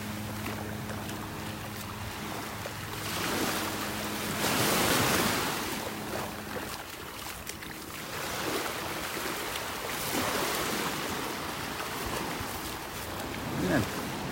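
Ocean waves break over a shallow sandbar off a beach in North Naples, Florida, giving a steady, broad wash of surf with swells that rise and fade, plus wind rushing across the microphone.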